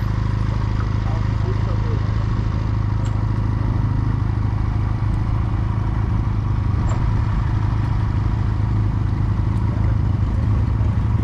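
A motorcycle engine, likely a Junak at a Junak owners' rally, runs steadily and close throughout with low, even rumbling and occasional clatter, while people chat nearby.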